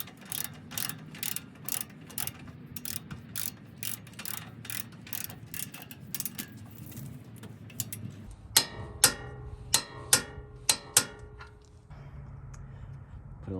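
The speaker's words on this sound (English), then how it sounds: "And I have my torque wrench set to 118 foot-pounds." A torque wrench ratchets on a suspension bolt of a 2nd-gen Toyota Sequoia, with a long run of even, rapid clicks and then a few louder, sharper clicks near the end.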